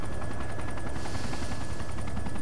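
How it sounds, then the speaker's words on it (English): Sustained rapid gunfire in a military video game battle, a dense, loud rattle of shots over a helicopter's steady whir, continuous with no pauses. "we're taking fire"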